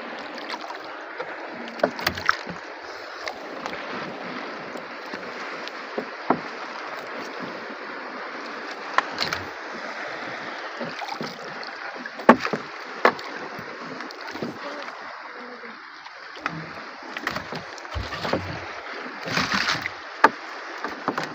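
A small boat moves through water, giving a steady broadband wash with scattered splashes and knocks throughout, fairly close and continuous, with no voices.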